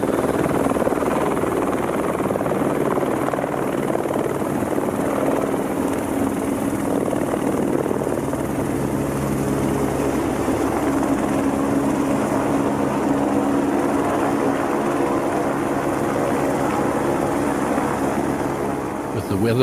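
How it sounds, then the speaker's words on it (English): A helicopter departs from a Russian icebreaker in the Canadian High Arctic on a reconnaissance flight, its rotors and engine making a steady, loud droning whir throughout. "a helicopter departs on a recce flight"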